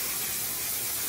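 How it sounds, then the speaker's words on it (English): One Size Until Dawn setting spray misting steadily from a close bottle, a continuous soft hiss with no talking. "I'm gonna spray myself down with some One Size Until Dawn setting spray"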